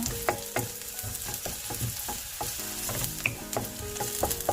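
Garlic stir-frying in a pan for a fish-cake stir-fry, with a steady sizzle broken by frequent clinks and scrapes of a utensil against the pan, close and moderately loud, with no talking.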